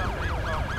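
A wailing police siren in a motel horror video game keeps rising and falling in a steady up-and-down sweep, loud and sustained, with a low rumble of wind or engine beneath it.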